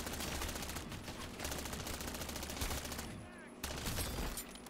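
Rapid, dense gunfire from a Call of Duty Modern Warfare III Zombies match, loud and nearly continuous bursts with a brief lull before the shooting resumes.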